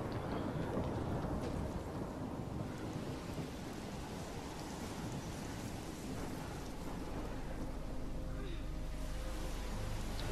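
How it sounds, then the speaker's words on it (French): Thunderstorm in the video game Life is Strange, near a lighthouse: steady loud rain and rolling thunder rumble fill the whole stretch, with wind and a faint voice underneath. "Il y a l'air d'avoir une sacrée tempête."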